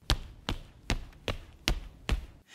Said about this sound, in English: This is the sound of someone walking on the stage.